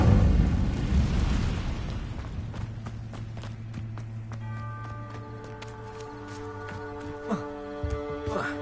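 Fire spell cast in Hogwarts Legacy on PS5: a loud whooshing burst that fades into a lingering rumble, followed by sustained tonal game effects and a few light chimes.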